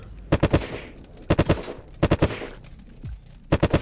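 Gunfire in the game Unturned: several close, loud bursts of two to four rapid shots each, separated by short pauses, with quiet movement between them.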